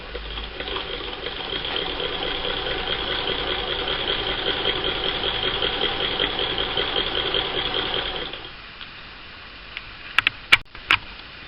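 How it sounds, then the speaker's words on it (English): A 1934 Singer vintage long-bobbin sewing machine runs in a steady mechanical whir of rapid stitching for about eight seconds, then stops, followed by a few sharp clicks. "This machine is now about to make its first stitches for very many years"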